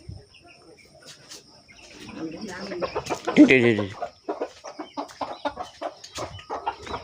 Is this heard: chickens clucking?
yes